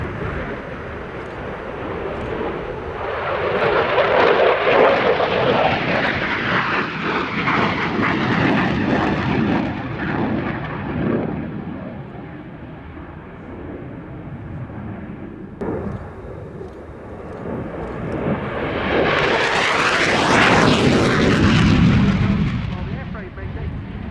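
A Belgian Air Force F-16 fighter jet roars through a high-g air display at the Royal International Air Tattoo, its loud engine swelling and fading in two long passes with a sharp afterburner-like surge near the end.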